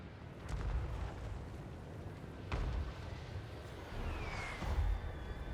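Howitzer artillery fire in the strategy game Total War: Warhammer III, heard as several deep booming shots at roughly two-second intervals over a steady low rumble of battle, with a faint whistling streak late on.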